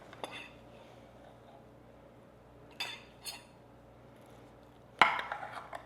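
A serving utensil clinks and scrapes against a baking dish holding breakfast strata of crusty bread and cheese, a few sharp clatters over a quiet room.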